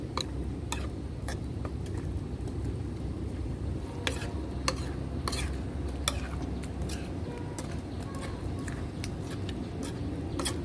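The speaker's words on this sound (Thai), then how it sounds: "เราก็จะผัดจนกว่าจะเปื่อยแล้วก็น้ำมะเขือเทศจะออกนะคะเพื่อน" Tomatoes stir-fried in chili paste for nam prik ong, a low bubbling simmer under sharp repeated clicks of a utensil against the pan, fairly quiet and close, no speech.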